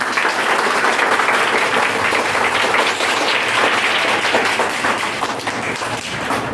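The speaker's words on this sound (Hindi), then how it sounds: "सभी अपने के लिए जोरदार तालियां लगाएंगे" Loud, dense clapping from students in a classroom quiz game, continuous and close throughout with no talk over it.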